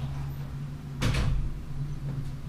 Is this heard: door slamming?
yes